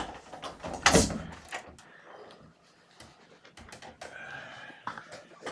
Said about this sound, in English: Go open the door.